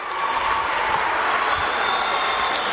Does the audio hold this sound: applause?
yes